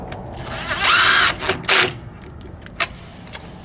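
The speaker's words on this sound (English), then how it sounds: "Not bad for a inexpensive brushed motor impact wrench that's cordless." A TECCPO cordless 1/2-inch impact wrench with a brushed motor gives a short, loud whirring burst, then a second brief one, followed by a few faint clicks and taps.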